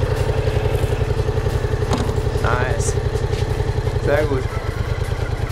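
A new motorcycle ridden at low speed by a novice, its engine running with a steady close pulsing putter throughout while people talk briefly over it.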